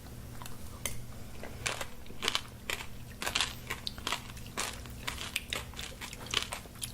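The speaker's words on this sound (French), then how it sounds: "Là, je mange des chips aux fruits." Freeze-dried fruit chips crunch loudly in the mouth, with a close, irregular series of crisp bites and chewing crackles and no talk.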